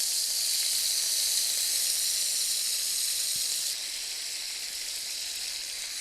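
Fish pieces fry in hot oil for a curry, making a loud, steady, close-up sizzle and hiss that drops slightly in level partway through.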